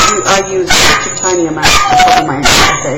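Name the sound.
dog barking in the background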